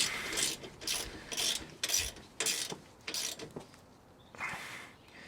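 A hand ratchet clicks in short, quick bursts, about seven strokes in total, while tightening bolts on a Ford 7.25 rear end cover, close up and fairly quiet.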